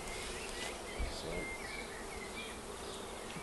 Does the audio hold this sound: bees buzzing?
yes